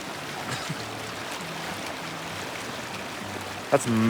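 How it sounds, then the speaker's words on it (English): Mountain spring water flowing on a hiking trail, a steady wash of rushing water with a brief louder splash near the end. "That's mountain spring water right there."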